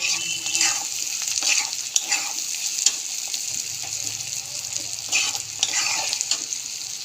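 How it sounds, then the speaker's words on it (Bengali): Bitter gourd fries with prawn heads in a pan, a bright continuous sizzle broken by spatula scrapes and stirring strokes throughout, close and loud with no voices. "বন্ধুরা দেখুন ভাজা ভাজা হয়ে গেছে, একদম সিদ্ধ হয়ে গেছে, নামিয়ে নেব।"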